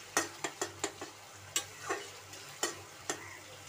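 Masala frying and being stirred in a pan ahead of adding boiled chana dal, heard as a run of sharp close scraping strokes of a spoon against the pan, about one every half second, over a faint steady sizzle.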